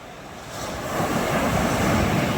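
Strong waves break on the shore at the Julugan fish terminal in Tanza, Cavite, after a storm, a rising roar of surf mixed with buffeting wind noise, growing louder after the first half second.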